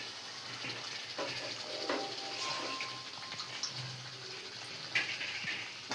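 Water being poured into a pan of dondakaya (ivy gourd) masala curry, a soft steady trickle and splash that runs for several seconds at close range, fairly quiet, with no talk.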